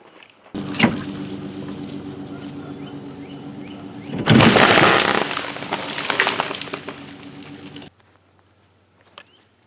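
A tree limb pulled down with a truck gives a loud rumbling crash and snapping of wood over an idling engine, lasting several seconds before cutting to near silence.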